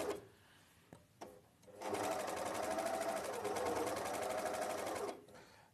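A sewing machine runs steadily for about three seconds, stitching a collar seam from the top side, its close, even mechanical whir beginning after a few soft handling knocks and stopping abruptly.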